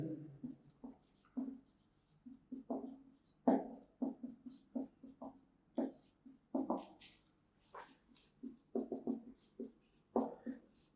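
A pen or chalk writes during a biology lesson on tissue-level organization, producing irregular bursts of scratchy strokes with short pauses between them; close and fairly quiet, with no talking.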